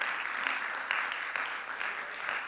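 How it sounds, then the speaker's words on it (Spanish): A church congregation claps together during a sermon, a dense, continuous patter of applause at moderate volume with a few sharper bursts, filling the room without any speech over it. "¿No le das un aplauso al Señor por eso?"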